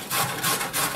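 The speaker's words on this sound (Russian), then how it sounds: "Трем морковку или ее нарезаем." A carrot is grated with three quick, rhythmic rasping strokes, close and fairly loud.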